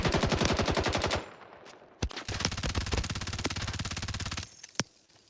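SMG fire in the shooter game Shrapnel: a rapid, close automatic burst for about a second, a single sharp shot, then a longer sustained stream of rounds lasting over two seconds, and a final crack near the end.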